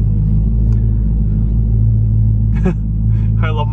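Dodge Hellcat V8 idling with a deep, steady low rumble up close, while a person talks briefly over the engine.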